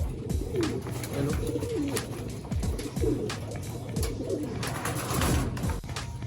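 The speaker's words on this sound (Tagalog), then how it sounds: "Ayan o, sinimot nila mga kalapatids. Gutom na gutom." Pigeons coo repeatedly while feeding, soft throaty warbling calls overlapping at close range amid light pecking and shuffling noise.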